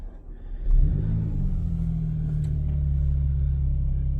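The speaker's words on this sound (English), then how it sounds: "And the engine kicks in." A 2015 Audi S5 Black Edition Sportback started with its keyless start-stop button fires up with a sudden loud surge, then settles into a steady, deep, rumbling idle close by, with no talking.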